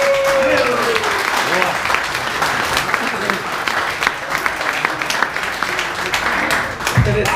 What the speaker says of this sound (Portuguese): Quem gostou, aplaude, por favor.